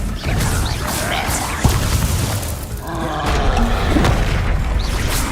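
Confringo blasting spell going off in Hogwarts Legacy, a loud booming burst amid a dense, busy battle soundscape with whooshes and crashes that stays loud throughout.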